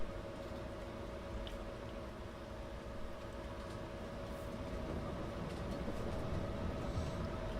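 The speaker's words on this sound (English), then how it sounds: "Got the locomotive just cranked." A locomotive in Farming Simulator 22 powers up with a steady, heavy rumbling drone and a sustained mechanical tone that grows slightly louder as it gets going.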